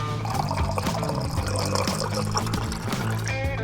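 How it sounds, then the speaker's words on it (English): Water runs steadily into the lower chamber of a stovetop coffee pot inside a campervan, a close, continuous pouring splash that fills the whole stretch with no talking. "fill this with water"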